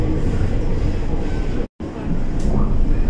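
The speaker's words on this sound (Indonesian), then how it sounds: "Saya mau naik kereta dulu." A train rolls along a track with a steady, broad rumble, running close alongside another train, with a brief sharp dropout partway through and a faint high squeal near the end.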